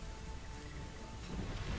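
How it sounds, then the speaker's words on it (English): Heavy rain in the StarCraft 2 jungle mission, a thick continuous hiss with a low rumbling undertone that swells slightly toward the end, loud and unbroken with no voices. "Ah, rain."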